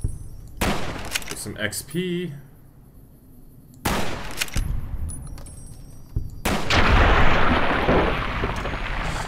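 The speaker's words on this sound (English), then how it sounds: "Let's take the Ferguson rifle and do some long range shooting with that." Ferguson rifle shots in Fallout New Vegas ring out as three loud, sharp blasts a few seconds apart, each trailing into a rumbling tail, while someone speaks briefly between them.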